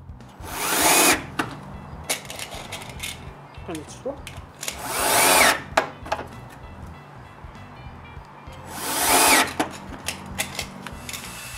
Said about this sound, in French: Puis finalement, je visse la penture en place.